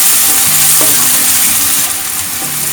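Celery mixture for Kerala-style dragon chicken sizzles loudly in a hot pan while being stirred, with a steady frying hiss and occasional scraping knocks over about three seconds, no talking.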